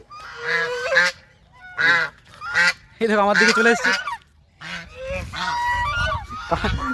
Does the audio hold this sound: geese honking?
yes